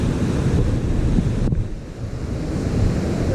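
Sea waves washing up a North Norfolk beach under an easterly wind, a steady close surf roar mixed with wind buffeting the microphone, with a brief dip as one wave recedes.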